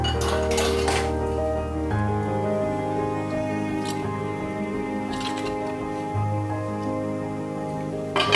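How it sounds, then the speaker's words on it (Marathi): A metal slotted ladle (jhara) used for frying motichoor boondi is rinsed in a pot of water, giving bright metallic clinks and knocks against the vessel in a few short bursts amid light sloshing. "पुन्हा झाऱ्या पाण्यात धुवून काढायचा."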